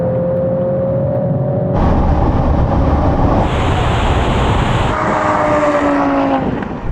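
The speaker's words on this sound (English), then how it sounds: "here comes a bloody Golf now! Wow, those gear changes" A tuned Volkswagen Golf hot hatch on a racing run, its engine roaring loud and close as it rises through the revs, with distinct pitch drops at quick gear changes before it fades away.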